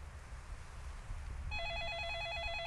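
A telephone starts ringing partway through in the horror RPG 山煞4, an electronic warbling ring over a low room ambience, steady and moderately loud once it begins.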